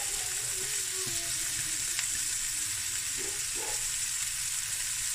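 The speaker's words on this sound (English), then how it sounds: "I want to stir fry the cabbage for about 6 to 8 minutes" Cabbage stir frying in a hot pan for Cape Malay cabbage fried rice, a steady, even sizzle and crackle running throughout at moderate loudness with no talking.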